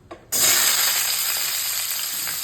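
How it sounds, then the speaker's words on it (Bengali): Vegetables hit hot olive oil with a sudden loud sizzle after a brief quiet moment, then keep frying in a steady, bright hiss that fades slightly, with no talking. "এই যে অলিভ অয়েল তেল দিয়ে দিয়েছি, সবজি আছে, সবজিটাকে ভেজে নেব"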